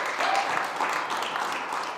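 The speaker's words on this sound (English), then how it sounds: "Round of applause." An audience at a panel event applauds, a dense, even patter of clapping hands that holds steady for about two seconds.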